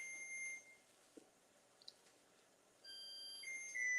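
A kitchen timer sounds repeated high electronic beeps, fairly faint, at the start and returning near the end, with a quiet gap of soft background noise in between.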